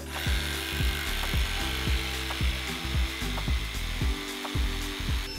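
A Hilti Nuron cordless jigsaw rasps through wood in repeated rhythmic strokes, with a steady mechanical whir of dust extraction running underneath throughout.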